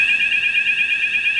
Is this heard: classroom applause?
no